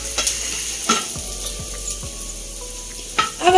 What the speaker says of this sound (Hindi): अब हम इसमें एक पिंच हींग डालें, इसको भी अच्छे से फ्राई कर लेंगे।